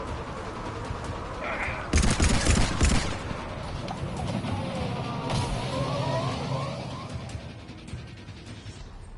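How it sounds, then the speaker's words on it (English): Sniper rifle gunfire in the video game Mass Effect 3, a burst of several rapid, loud shots in quick succession amid game noise and other effects. "Is he rapid firing the sniper rifle?"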